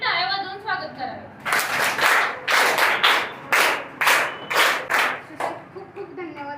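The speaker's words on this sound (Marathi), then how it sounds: "त्याचे टाळ्या वाजवून स्वागत करावे" Applause at a school event marking Gandhi and Lal Bahadur Shastri Jayanti, a crowd clapping in several strong surges for about five seconds, with an announcer's voice briefly before and after.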